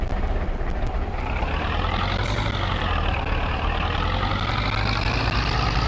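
A car passing in Farming Simulator 22 on a Polish farm map, a steady engine drone that swells and sweeps upward as the vehicle draws near, heard continuously over low rumbling machinery with no talk.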